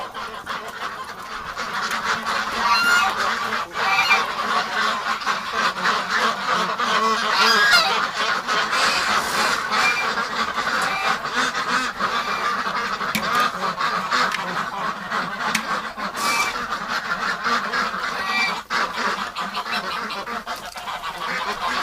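A flock of farm ducks in a winter yard honk and quack constantly for over twenty seconds, a dense overlapping chorus of loud, close calls.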